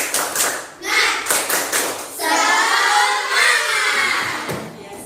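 Schoolchildren in an Indonesian classroom perform a tepuk semangat clapping routine, several rhythmic bursts of claps giving way to a sustained wash of dense clapping from the group, close and fairly loud.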